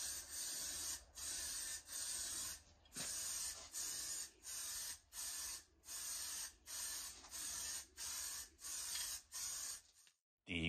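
A spray can applies fire-resistant paint to the front panel of a homemade pellet smoker cabinet in a series of steady, loud hissing bursts, each about a second long with brief pauses between them.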